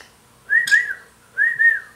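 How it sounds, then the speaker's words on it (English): A pet bird whistles two clear, rising-and-falling notes close by, repeated twice with a short pause between the pairs. "here's the screaming bird you often hear in the background"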